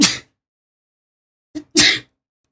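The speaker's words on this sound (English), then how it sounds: "oh, I'm gonna sneeze" A single close sneeze during a gaming livestream: a short sharp intake, then one loud, breathy burst, with silence around it.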